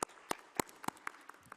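A conference audience applauding, heard as a faint, sparse run of separate claps from a few people in a large room.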